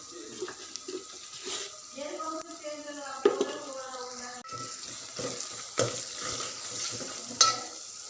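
Ginger-garlic paste with turmeric is stirred in a pan, giving a quiet sizzle with scraping stir strokes and clinks, while a voice talks intermittently in the first half.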